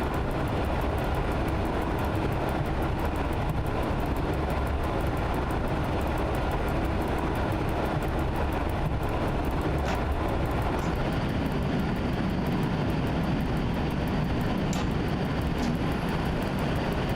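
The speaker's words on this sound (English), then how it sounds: "Seems like a 60s train." A roughly 1960s train in Simrail, winter conditions on wet track, rumbling steadily with a broad continuous roar and occasional faint clanks over its length.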